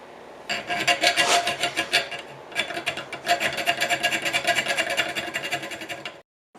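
A hand tool cuts triangle grooves into copper in a rapid series of short rasping strokes, close and fairly loud, with brief pauses between runs before stopping near the end.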